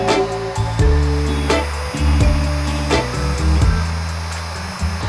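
A heat gun blows hot air onto paint protection film on the hood of a 2020 Chevy Corvette, a loud steady whirring hiss with the tone dipping and shifting as it moves across the surface.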